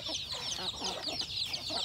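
Chickens clucking and chattering on a bare, grazed-out grass range, several birds calling continuously at moderate distance with no voices over them.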